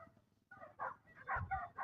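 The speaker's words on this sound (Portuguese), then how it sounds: "E pelo incrível que pareça, o latido parece que está aqui do meu lado" Dogs bark about 300 metres away, yet the barks sound surprisingly near, coming as a short run of muffled woofs and yips, fairly faint, with no talk over them.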